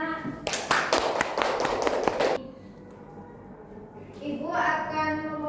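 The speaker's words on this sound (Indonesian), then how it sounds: "Tepuk tangan untuk Mas Tio, anak-anak." Schoolchildren in a classroom clap together for a classmate, a burst of quick, close claps lasting about two seconds, then a pause before a voice speaks.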